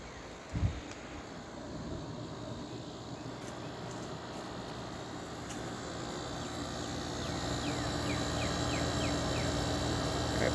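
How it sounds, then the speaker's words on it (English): LG window air conditioner with a rotary compressor, heard from outside, running steadily with a broad continuous hum and airflow noise that swells slightly over time, with faint chirping in the background. "Got a piece of junk LG rotary."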